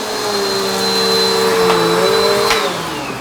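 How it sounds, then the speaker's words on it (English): A Bissell AeroSwift vacuum cleaner sucks up dirt with a loud, steady motor whine and airy rush, running continuously up close with a brief rattle of debris near the end. "the Bissell did an exceptional job at picking up all of this dirt"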